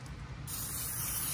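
A short burst of Valstol lubricant sprayed from an aerosol can onto air gun slugs, a close, sharp hiss that starts abruptly and holds steady for about a second.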